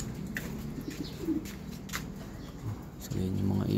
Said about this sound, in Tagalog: So yun yung mga ibon natin.